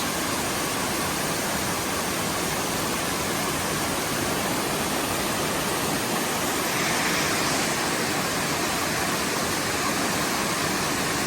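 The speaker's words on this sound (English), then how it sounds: "Water is just crazy coming down." Thoreau Falls pours down in a continuous, loud, broadband roar of cascading water, heard from close below the falls with no talking over it.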